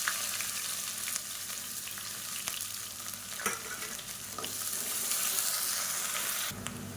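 Long-sliced large onion frying in hot oil with whole spices for biryani, a steady close sizzle and crackle with occasional stirring clicks, continuous and alone without talk.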